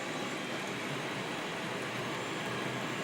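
An 80-car model coal train with two dummy locomotives rolls past on a layout, making a constant dense rumble and rattle of wheels on track at a steady, unbroken level.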